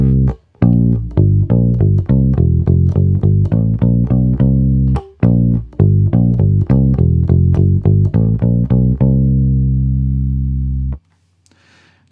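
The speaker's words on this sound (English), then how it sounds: "Now that's a great bass tone" A P-style electric bass with the tone control fully on plays a steady riff of plucked notes. The tone is warm and full, with a brief gap partway through and a final note left ringing.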